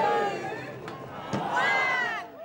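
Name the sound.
crowd racing through opened festival gates, Taste of Tasmania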